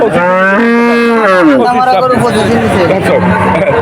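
Cattle at a livestock market in Monirampur, Jessore, loudly lowing in long drawn-out moos close by, followed by more overlapping calls amid the busy murmur of a crowd.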